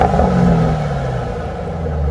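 A 2008 Shelby GT Mustang engine burbles at low, steady revs through its stock exhaust, giving a close, throaty rumble that holds on its own for a couple of seconds.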